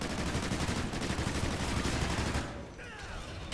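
Dense rapid gunfire rattles continuously at a rhino in the video game Extinction, loud bursts layered over each other before easing slightly near the end.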